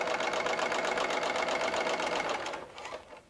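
Sewing machine stitching quilt fabric at a quarter-inch seam, a loud, steady rapid mechanical whir that runs continuously for most of the clip, then slows and fades as the needle stops near the end.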